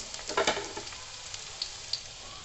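Carrots fry for chow mein in a pan with a soft, steady sizzle. Brief stirring scrapes come near the start, followed by a couple of faint clicks.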